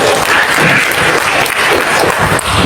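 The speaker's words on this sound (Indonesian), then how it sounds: "tepuk tangan boleh buat dia" Loud, sustained applause from a crowd at a Betawi community year-end gathering, steady clapping throughout with no break.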